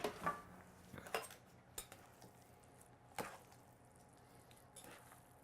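Utensils clink and scrape against a bowl as ground veal is mixed with peppers and onions for spicy veal with rice noodles; irregular soft taps, faint and close, with no talking.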